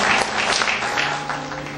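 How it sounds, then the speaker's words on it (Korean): Applause from the audience at a founding ceremony for a Christian newspaper and broadcaster in Gwangju, a steady dense clatter of hands sustained throughout, with a faint low hum underneath. "박수로 격려해 주시면 고맙겠습니다"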